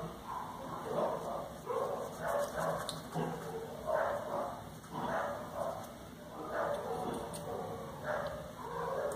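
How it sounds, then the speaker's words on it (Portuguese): Several neighbourhood dogs bark repeatedly from the street below and nearby houses, a steady run of overlapping yaps and woofs at moderate distance, with a constant high electrical whine behind. "O cachorro começou a latir lá na rua de baixo."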